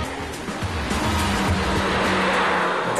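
A Porsche GT2 race car driving fast, its engine a steady, loud drone with a low rumble throughout, close and continuous, with no talk over it.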